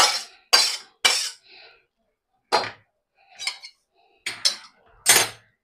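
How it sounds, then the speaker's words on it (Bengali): Squash and shrimp curry is scooped out of a pot into a serving dish, with a series of separate metallic clinks and scrapes of a spoon against the vessels, spaced with quiet pauses. "এবার একটা পাত্রে আমি ঢেলে নিচ্ছি।"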